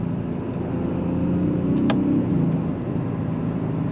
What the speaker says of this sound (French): Et il s'agit bien de l'échappement sport.